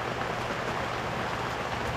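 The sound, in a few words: heavy rain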